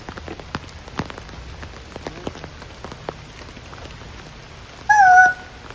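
Rain patters on a tent pitched in a deep forest, with scattered soft drops tapping irregularly at a low level, then a brief, clear meow-like call rises near the end.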